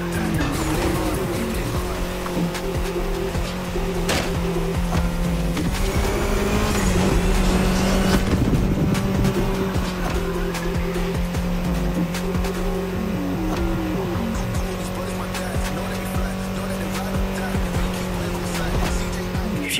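A Mini car in The Crew Motorfest racing game drives hard with a loud, continuous engine drone and repeated squealing tires through corners, with game sounds layered over it and no speech.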